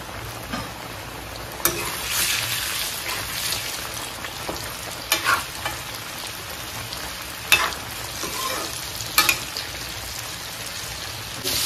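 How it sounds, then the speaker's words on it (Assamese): KFC-style chicken frying in oil gives a constant bubbling sizzle, broken by a few sharper crackles and clinks of stirring. "আকৌ গোটেইখিনি আমি ধুনীয়াকৈ ফ্ৰাই কৰি লওঁ"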